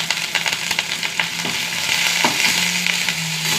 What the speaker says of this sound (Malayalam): കുറച്ച് ഉള്ളി ഇട്ട് കൊടുക്കാം കേട്ടോ. ഒരു വറ്റൽമുളക്, കുറച്ച് കറിവേപ്പില,